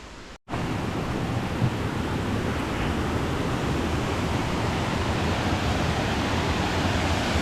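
Calm waterfalls at Inversnaid in Scotland, running low after weeks without rain, give a steady broadband rush close by that stays even and unbroken after a brief dropout at the start.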